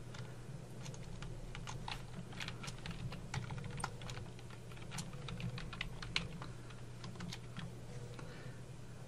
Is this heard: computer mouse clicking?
yes